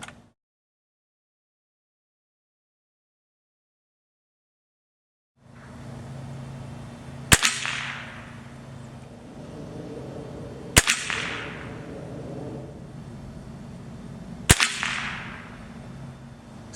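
A Winchester 1100 XSU .177 spring air rifle fires hobby pellets outdoors at dusk: three sharp, loud shots spaced a few seconds apart, each with a quick ringing decay over a low background hum after an initial silence.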